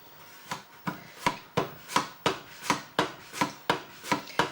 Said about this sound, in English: I'm going to use this mandolin. It's on a thin slice setting, and off we go.